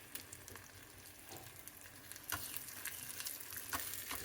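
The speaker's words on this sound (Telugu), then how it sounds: "పోపు అవుతుంది." Spice tempering (popu) sizzling in hot oil for palakura pappu, a steady soft crackle with sharper pops and spits, including a louder burst partway through, heard alone without talk.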